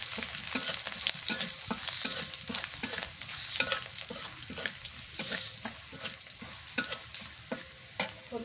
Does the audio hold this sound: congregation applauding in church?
no